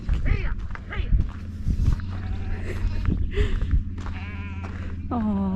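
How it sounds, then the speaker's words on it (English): Sheep bleating in the English countryside along a long-distance walking route, several loud, wavering cries repeating close by, with a steady background hum and a person's voice between calls. "The noise that sheep just made."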